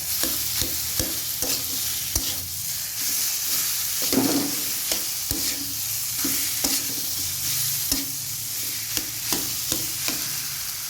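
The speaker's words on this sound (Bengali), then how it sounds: "লঙ্কার গুঁড়ো দিয়ে দেবেন জিরের গুঁড়ো দিয়ে দেবো ধনের গুঁড়ো দিয়ে দেবো হলুদ গুঁড়ো দিয়ে ভালো করে মিশিয়ে দেব" Chilli, cumin, coriander and turmeric powders stirred and mixed in a hot pan, a steady sizzle marked by repeated sharp taps and scrapes of a spatula against the metal at an uneven rhythm.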